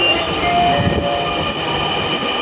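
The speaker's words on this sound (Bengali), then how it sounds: "মেট্রো রেল চলে আসছে, মনে হয় পাবো না।" A metro rail train pulls into a station with a loud, steady roar and rumble close by. A brief tone rises above the mechanical noise.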